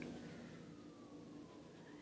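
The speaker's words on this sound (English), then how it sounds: "And there's some more sirens." Emergency vehicle sirens wail faintly in the distance outdoors, a thin gliding tone drifting slowly downward over a steady background hum.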